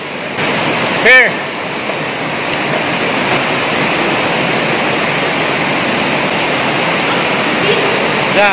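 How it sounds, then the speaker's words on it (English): An underground river rushes through a cave in the Philippines as a dense, steady roar of water that fills the space. A brief voice cuts in once near the start. "We're here in the underground river."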